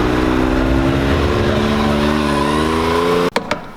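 A vehicle engine with a clutch, recorded up close, holds a loud sustained rev with a steady droning whine, then cuts off abruptly near the end, followed by a couple of brief thumps.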